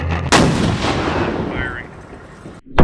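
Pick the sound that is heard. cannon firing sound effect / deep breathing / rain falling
cannon firing sound effect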